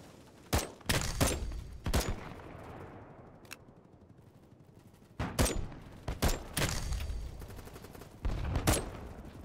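Rifle shots from an SVD designated marksman rifle in the shooter game BattleBit Remastered, a run of sharp, loud cracks fired in quick bursts with short pauses between them, set against low background game noise.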